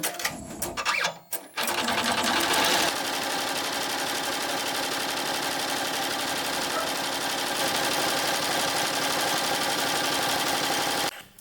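An embroidery machine stitching metallic isocord thread at about 600 stitches per minute makes a steady, close, rapid mechanical whir with a dense rhythmic clatter, preceded by a few seconds of irregular handling noise.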